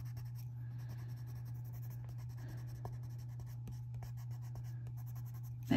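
Colored pencil strokes rub steadily across paper while coloring a dreamcatcher design in gray, a soft continuous scratching over a low steady hum, ending in a brief louder bump.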